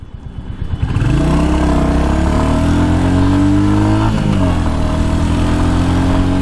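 A Royal Enfield Hunter motorcycle rides through traffic, its engine rising and falling loudly and close as it revs up through the gears, with a brief throttle dip midway before pulling again.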